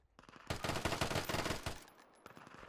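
Rapid bursts of automatic gunfire from AI enemies in the Deadside game crackle in a dense, sharp volley for over a second, then trail off into a few faint scattered shots.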